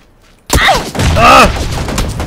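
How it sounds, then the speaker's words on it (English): A grenade detonates in PUBG as a sudden loud boom with rolling blast noise, landing about half a second in and trailing into a sustained rumble while someone shouts excitedly over it. "He threw a grenade!"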